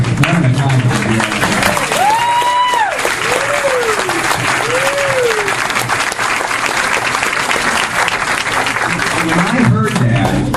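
A large audience at a Tea Party political rally fills the room with dense, steady applause throughout, with cheers and whistle-like voices rising above the clapping.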